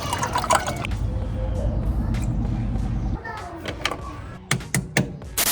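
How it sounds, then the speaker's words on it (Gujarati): Water pours into an opened battery, a bubbling, gurgling fill that runs steadily for about three seconds and then gives way to a few clunks and knocks. "તો બેટરીના ખોલીને બેટરીમાં પાણી નાખી દઈ."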